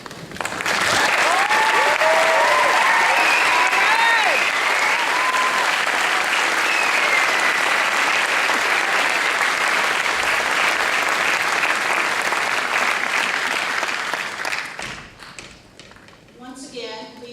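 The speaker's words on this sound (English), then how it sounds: "please hold your applause until the names have been announced" Sustained applause from a large audience at a graduation ceremony, loud and steady for about fourteen seconds before tapering off to scattered claps at the end.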